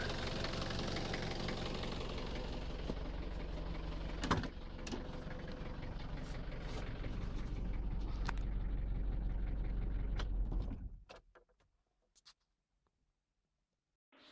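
A car engine idles steadily during warm-up after cylinder head repair work, a dense, continuous low rumble with faint knocking that runs for about ten seconds, then cuts off into near silence.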